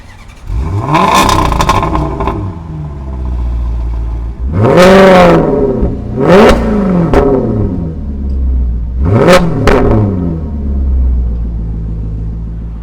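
A Ferrari sports car engine revs hard several times in loud rising and falling bursts, three main surges with a steady rumbling drone between them while driving, no talk.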